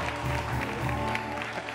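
A studio audience claps in a steady, dense wash of applause that holds evenly throughout, moderately loud and continuous.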